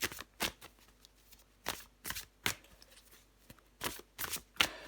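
Tarot cards being shuffled by hand at close range, several crisp riffling bursts of card stock separated by short pauses, with no talking.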